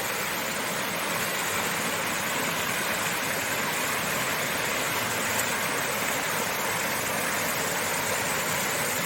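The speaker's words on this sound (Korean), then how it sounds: "이번에 큰 장마 비가 크게 오고 나서 계곡물이 흐르고 있습니다" A valley stream runs high after heavy monsoon rain in the mountains, giving a loud, steady, broadband rush of flowing water that holds unchanged throughout with no voices.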